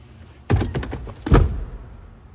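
2015 Honda Odyssey EX third-row seats folding down: two dull, close thuds about a second apart, each with a short rattling tail, in a quiet cabin.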